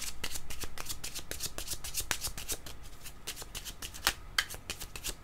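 Tarot cards being shuffled and drawn make a close, dry, rapid riffling patter of card edges, broken by a couple of sharper slaps near the end, with no speech over it.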